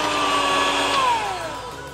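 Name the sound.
hand blender mixing cake batter with cocoa powder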